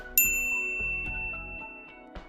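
A bright notification bell chime rings once with a sharp onset and a long shimmering decay, followed by a softer tinkling ding near the end, alone with no talk.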